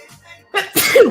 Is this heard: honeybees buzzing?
no